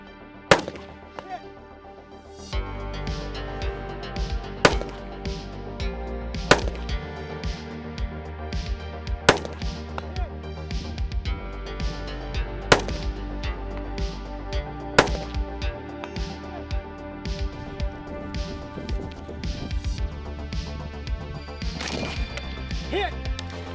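Rifle shots fired with Mark 262 ammunition at targets from 150 to 400 yards at a desert shooting match, sharp cracks spaced a few seconds apart over steady wind and background noise.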